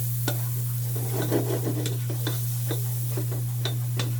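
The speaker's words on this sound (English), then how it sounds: "right now we're gonna add our flour, and then we're gonna mix it" Flour being stirred into browned Hungarian sausage in a hot pan: irregular scraping and clacking strokes of a utensil over a steady sizzle and a constant low hum, close by, with no talking.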